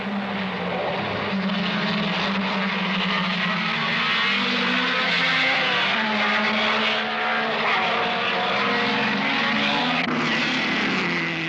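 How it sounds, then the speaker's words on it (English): 1962 Grand Prix racing cars, a BRM and a Cooper, roar past on track with a loud, continuous engine drone whose pitch rises and falls, heard on an old film recording without commentary. "Graham Hill, BRM going perfectly, but the lead was now held by Bruce McLaren, Cooper"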